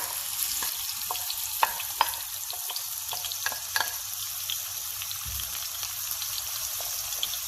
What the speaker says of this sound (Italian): Metto in padella un bel giro di olio e lo lascio scaldare. Quindi aggiungiamo la cipolla